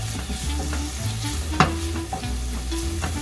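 Onions fry in butter in a pan while being stirred. A steady sizzle is punctuated by scraping stir strokes and one sharp clink, close and moderately loud, with no talking.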